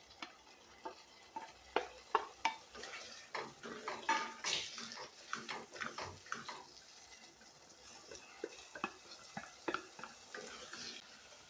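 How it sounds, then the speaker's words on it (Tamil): Paneer fried earlier is stirred into a masala gravy in a pan, giving a run of irregular scraping, clinking spoon-on-pan strokes with a soft sizzle beneath, close up and moderately loud, no talking. "இப்போது இது கூட நம்ம ஃப்ரை பண்ணி வச்சுருக்கிற பன்னீர் எல்லாம் சேர்த்துக்கலாம்."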